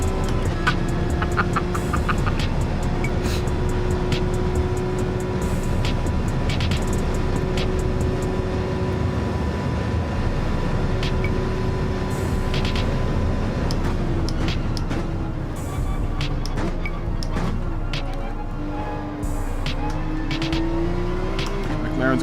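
A McLaren race car's engine in Gran Turismo 7 drones steadily at high revs, shifting pitch with gear changes and a brief drop near the end, loud and continuous with game sounds layered over it.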